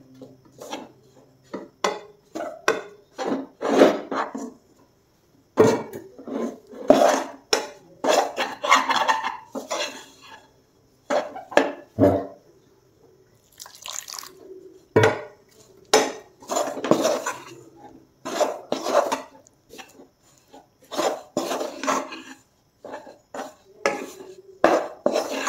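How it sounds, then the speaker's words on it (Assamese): Soft dough for steamed ladoo being kneaded by hand in a bowl: a steady run of close, dry scraping, rubbing and slapping strokes against the bowl, irregular in rhythm and fairly quiet, with no voices. "আটা মৰা নিচিনাখিনি মাৰি ল'ব লাগিব মানে চফ্ট ডো এটা হ'ব লাগিব"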